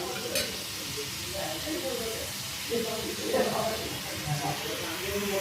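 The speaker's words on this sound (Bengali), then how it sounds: "এইভাবে অনবরত নাড়াচাড়া করে কষে যেতে হবে সবজিটা" Vegetables for a crab and potato curry are stirred and fried in a pan, soft sizzling with intermittent scraping and stirring sounds at close range.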